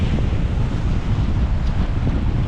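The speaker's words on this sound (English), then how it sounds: "Those waves are actually scaring even me" Sea waves breaking in strong wind, a loud continuous roar of surf mixed with heavy wind buffeting close to the microphone, with no voices.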